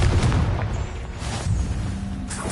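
A Confringo spell cast in Hogwarts Legacy bursts in a short booming explosion, loud and close, rumbling briefly before fading.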